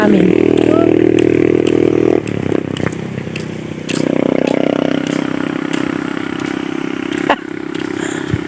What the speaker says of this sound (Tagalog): Ito yung motor